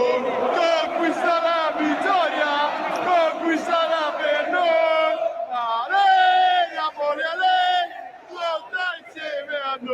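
Napoli football fans chant loudly and in unison inside their stadium before a match against Atalanta, a massed rhythmic roar of voices rising and falling close by.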